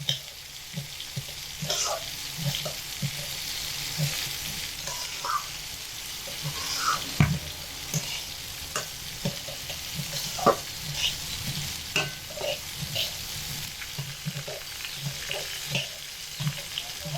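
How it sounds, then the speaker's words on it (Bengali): Lentils fry over medium heat in a pan under a constant low sizzle, with frequent rhythmic scrapes and clatters from a spoon stirring them. "খুব ঘন ঘন নেড়ে মিডিয়াম আঁচে রেখে ডালগুলো খুব ভালো করে ভেজে নিতে হবে"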